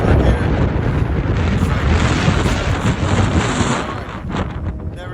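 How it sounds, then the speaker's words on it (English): Strong wind at a geothermal area near Akureyri, Iceland, roars and buffets loudly against the microphone in a continuous rumbling gust that eases slightly toward the end. "It's super windy"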